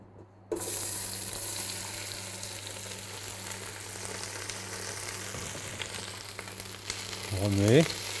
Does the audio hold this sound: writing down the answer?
no